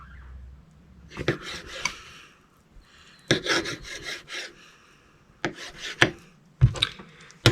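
A fillet knife slices through a whitetail deer heart in close, scraping strokes that come in short bursts separated by brief pauses, with no talking.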